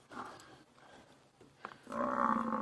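A buffalo bellows in distress during a lion kill on an African safari, a faint, distant grunt rising into a louder, drawn-out groaning call.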